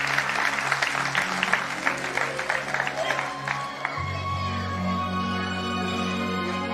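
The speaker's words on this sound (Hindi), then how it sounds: "एक बार जोरदार ताली आप सभी लोगों के लिए।" An audience at a gathering at Shri Gyan Sanskar Vatika claps loudly for a few seconds, a busy crackle of many hands that gives way to a steady sustained tone.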